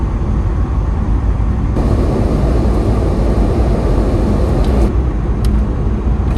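Car with a turbocharger accelerating after its brakes sat unused for a decade, a steady loud broadband engine and road roar that builds partway through with faint high whistle-like traces, heard close from inside.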